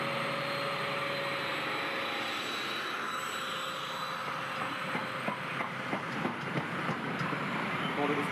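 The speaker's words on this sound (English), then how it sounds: "What does everyone think of the sound of the Valenta engines?" An Intercity 125 HST with its Class 43 power car pushing at the rear, powered by Valenta engines, roars continuously and loudly throughout, with a steady droning engine note and faint voices underneath.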